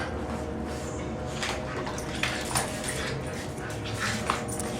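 A dog whimpers softly over a steady background hum, with a few thin whines and faint yips rising now and then across several seconds.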